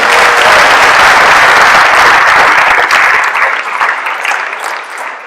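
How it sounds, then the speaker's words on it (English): At a wrestling awards banquet, the crowd claps loudly and close for honored wrestlers, a full burst of applause that gradually tapers off over a few seconds. "Let's give them a round of applause."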